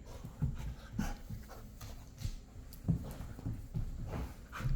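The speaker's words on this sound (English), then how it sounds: "Here's my dog, Sweetie Pants." Rapid, close panting from a dog, irregular breathy bursts with small whimpers and shuffling, no talk over it.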